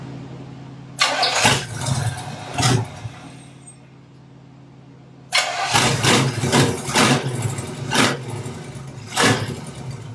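A 1967 Pontiac Firebird 400 V8 with overheating trouble and a replaced freeze plug cranks in loud bursts, falls quiet, then cranks again and catches, running roughly up close.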